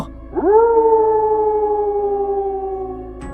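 A long, sustained howl rises quickly and holds a steady wavering pitch for about three seconds before cutting off, sounding like dogs howling in unison, clear and fairly close.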